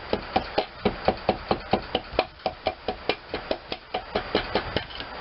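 Rapid, even tapping of a rubber mallet driving pistons into a Briggs and Stratton twin engine, about four soft knocks a second, close and steady with no talk.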